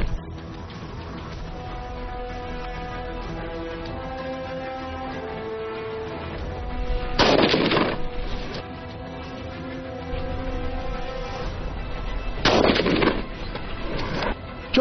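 Gunshots from shooters firing at targets on a range, two short loud bursts of rapid shots standing out over a constant music bed.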